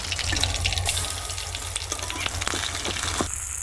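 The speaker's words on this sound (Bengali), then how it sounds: "এভাবে বড়াগুলোকে গরম তেলে ভেজে নিতে হবে" Gandha bhadal leaf fritters fry in hot oil with a steady, close crackling sizzle that runs the whole time, joined by brief clinks and scrapes as they are turned.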